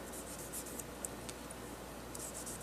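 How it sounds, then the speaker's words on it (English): Scissors being wiped clean with a cloth during orchid repotting, giving a soft, steady rubbing and scraping sound with a few faint clicks, alone and close. "Might as well try to clean my scissors from the last time while I'm waiting."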